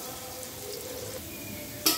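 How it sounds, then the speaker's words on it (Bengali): Chopped onion frying in hot oil for chicken biryani, a close, steady sizzle with a brief clink of a utensil against the pan at the end. "এরপর এই তেলের মধ্যেই আমি আরো কিছুটা পেঁয়াজ কুচি দিয়ে দিচ্ছি।"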